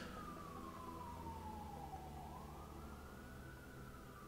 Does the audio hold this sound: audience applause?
no